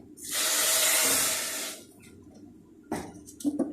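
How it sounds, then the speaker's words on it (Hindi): One cup of water pours into a pot of sugar for halwa in a strong, hissing rush for over a second, then stops, followed by a few clinks and handling sounds. "अब मैं 1 प्याली पानी डालने लगी हूँ।"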